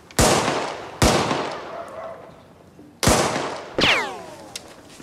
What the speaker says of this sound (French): Il tire sur tout ce qui bouge.